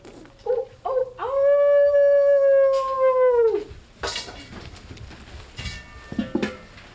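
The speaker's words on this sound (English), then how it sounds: "Occasionally, one might hear an Indian dog howl." A dog lets out a long, sustained howl after a few short yelps, followed by scattered rustling and softer noises.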